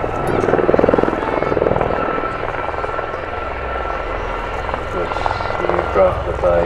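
A Gazelle helicopter flies at the Midlands Air Festival, its loud, steady rotor and engine drone continuing throughout and peaking briefly near the end, with a voice speaking over it.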